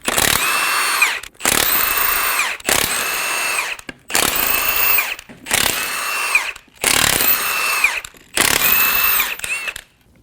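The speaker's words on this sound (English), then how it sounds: "Using a 22mm socket, remove the 8 lug nuts." Impact wrench with a 22mm socket spinning off the eight lug nuts on a 2019-2025 Ram 2500 wheel, loud close bursts of high whining hammering, about seven in a row separated by short pauses, with no talk.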